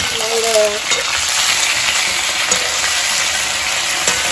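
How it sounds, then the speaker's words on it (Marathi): Brinjal (eggplant) frying in a pan, giving a loud, dense, continuous sizzle and spatter heard up close throughout, with a brief tonal squeak near the start and no talk. "मस्त वांगे फ्राय करून घ्यायचं ना"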